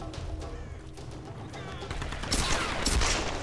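Rapid gunfire in the Tomb Raider video game, a dense burst of shots that grows louder toward the end of the clip, with a voice talking over it.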